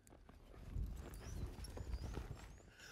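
Hooves of a cutting horse being trained against a mechanical cow or flag, thudding in quick, uneven clusters of near, loud clip-clop as the horse stops, backs up and shifts direction.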